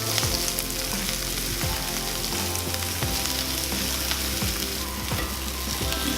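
Sausage fries in a pan for a biscuits-and-gravy breakfast, giving a loud, steady, dense sizzle with a low hum underneath that runs unbroken throughout.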